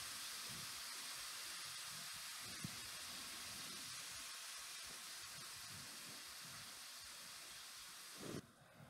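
Ground turkey browning in garlic oil in a pan, a steady broadband sizzle and hiss held close throughout, with faint scrapes and a brief louder clatter near the end.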